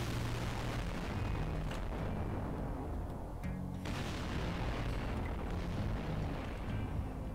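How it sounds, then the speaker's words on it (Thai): An artillery bombardment in the mobile sandbox game VMod, with dense overlapping explosions and booms that form a constant, heavy rumbling barrage. "เขากำลังยิงถล่มกันนะครับ"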